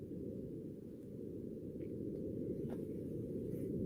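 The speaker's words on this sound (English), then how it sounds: "This is the sound of Mars wind recorded by the Perseverance rover" Wind on Mars captured by the Perseverance rover, a faint, steady low rumble of buffeting air with no distinct events, constant throughout.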